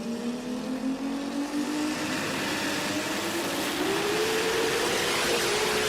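Six-cylinder RB and 2JZ drag cars launch side by side at a Brisbane drag racing event, a loud sustained engine roar with rising pitch as they accelerate away, steady and unbroken without talk.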